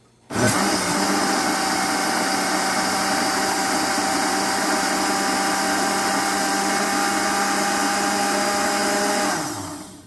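A kitchen blender pulses peanuts for Jamaican peanut and oats porridge, a loud steady motor whir running nearly ten seconds before cutting off, with no talking.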